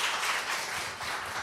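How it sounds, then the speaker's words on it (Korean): Steady, dense applause from a church youth service audience in Osaka fills the room, welcoming two people forward, with no break and no voices over it. "두 분을 여러분이 박수로 맞이해 주시기 바랍니다"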